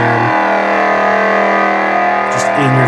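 A lightsaber sound font from the Crystal Harvest series produces a loud, steady, gritty, distorted hum that drones without a break and shifts slightly near the end.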